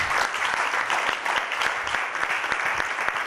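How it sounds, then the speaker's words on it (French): Audience at the close of a French conference applauds the speakers again, a steady, even wash of many hands clapping at moderate level, continuous throughout. "Et je vous demande de les applaudir encore une fois"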